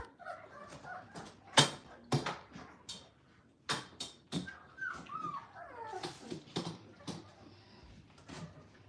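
Cane Corso puppies, gray-blue and black, whimpering and yipping in short high cries, close by, with scattered handling knocks and rustles between them and no talk.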